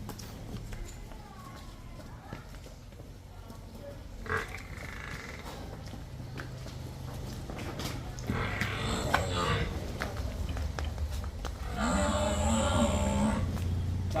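Buffalo at a Punjab dairy farm where milking buffaloes are sold, mooing in a few drawn-out, low calls near the end, with people talking in the background.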